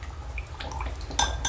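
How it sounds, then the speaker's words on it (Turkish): Melted solid shampoo mixture, with essence added, is poured into a mold, giving soft liquid dribbling and faint vessel clinks that end in a brighter clatter near the close. "Ve kalıbımıza döküyoruz."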